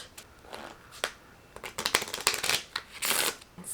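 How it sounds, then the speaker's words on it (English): A deck of prompt cards is shuffled close up, giving crisp riffling and flicking bursts that come in quick, uneven clusters and grow busier toward the end. "So we're going to do some shuffling first."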